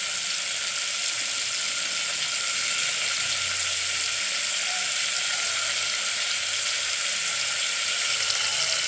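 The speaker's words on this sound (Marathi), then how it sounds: "वांगे चांगले परतून घ्यायचे." Eggplant sautéing in a pan for a potato and eggplant bhaji, giving a steady, even sizzle and hiss of hot oil that runs unbroken throughout at moderate loudness, with no talking.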